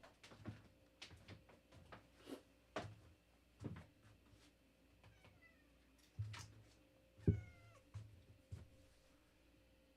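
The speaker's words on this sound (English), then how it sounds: "I have to let my cat in." Pet cat meowing at a door to be let in, several short meows spread across ten seconds against quiet room noise, mixed with faint knocks and bumps from the door, with no talking.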